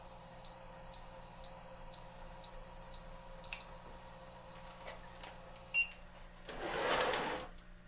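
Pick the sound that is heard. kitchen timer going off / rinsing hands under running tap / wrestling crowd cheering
kitchen timer going off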